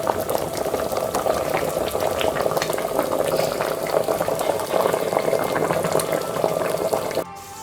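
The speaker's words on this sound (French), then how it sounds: "j'ai mis mes gombos, je vais laisser cuire encore 5 minutes" Okra and bananas simmer in tomato sauce, a close, steady bubbling with dense popping and sputtering throughout, softening abruptly near the end.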